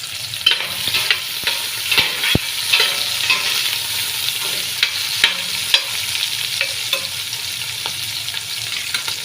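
Onion pieces fry in hot oil in a pan for a mutton dish, a steady loud sizzle broken by frequent stirring scrapes and sharp spoon taps against the pan.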